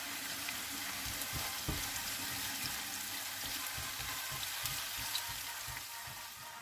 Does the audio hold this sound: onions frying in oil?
yes